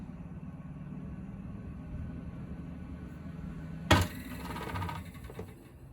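A Creda Debonair Autopump laundry spinner hums and rumbles steadily, then a sudden sharp clunk and rattle breaks in as the drum catches on something, followed by a scraping, rattling rundown.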